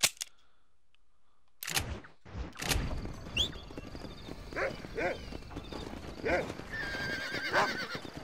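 Horse neighing and clip-clopping hooves in the Red Dead Redemption 2 video game, a whinny rising over hoofbeats and sharp cracks like gunshots, with someone talking over it.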